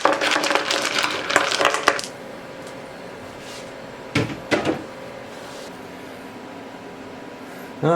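Quartz rocks drop into a rock tumbler barrel for a coarse 60/90 silicon carbide grind, giving a quick run of hard clattering knocks, then a brief second cluster of clacks after a quiet pause.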